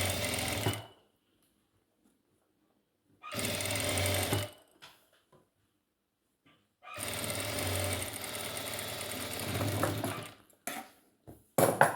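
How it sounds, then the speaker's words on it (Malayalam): A sewing machine stitches a sari blouse to measure, running in three loud bursts separated by quiet pauses, with a few short taps and a final brief whir. "അപ്പോൾ നമ്മൾ അളവ് പ്രകാരം തയ്ക്കുന്നത് ഇതേപോലെ"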